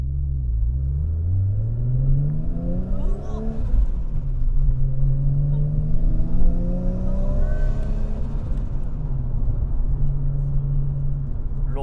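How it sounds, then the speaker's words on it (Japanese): A Nissan S15 Silvia's six-cylinder RB26 engine with oversized pistons revs up and down repeatedly, rising and falling in pitch, loud and close, with a deep rumble throughout. "六発サウンドですね。"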